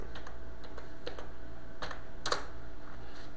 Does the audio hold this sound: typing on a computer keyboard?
yes